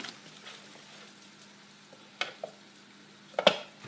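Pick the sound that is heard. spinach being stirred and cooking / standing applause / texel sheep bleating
spinach being stirred and cooking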